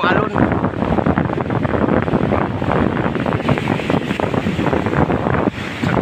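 Strong, continuous roar of surf and wind buffeting the microphone, loud and steady throughout with no pauses.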